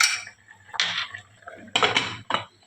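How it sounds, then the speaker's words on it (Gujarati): A metal pressure cooker lid is handled and closed over dal dhokli, with several close clanks and scraping metal knocks in uneven bursts and no talking. "કુકરનું ઢાંકણ બંધ કરી દઈશું"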